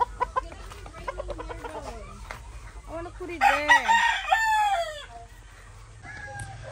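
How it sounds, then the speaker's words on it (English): Roosters on a farm crow in long, rising calls, with softer clucking in between, moderately close, while someone talks briefly at the start. "He's got some roosters."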